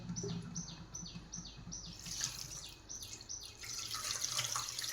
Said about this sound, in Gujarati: માખણામાં એકદમ તાજી પાણી ન નીકળે તાજું પાણી એમ ધોઈ લેવાનું બે વાર